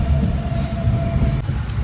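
Inside a moving passenger train, a loud, steady low rumble from the carriage and wheels, with a faint sustained whine running through it.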